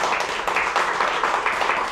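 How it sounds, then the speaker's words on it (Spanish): An audience applauding during a talk show, steady brisk clapping from a crowd at moderate distance lasting the whole moment. "¡Vamos a aplaudir al hombre!"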